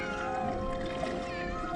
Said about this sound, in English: Would someone shut that cat up?